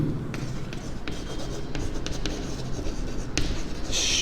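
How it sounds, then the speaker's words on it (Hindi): Pen or chalk writing out a maths problem during a lesson, with quick scratchy strokes and taps in an uneven rhythm, close and clear over a faint room hum. "तो मैं लिखूंगा"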